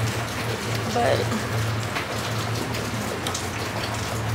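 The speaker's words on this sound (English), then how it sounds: "it just started raining like crazy" Heavy rain pours down outside as a steady, even hiss of falling drops that fills the background, with a low hum running beneath it and a brief spoken word.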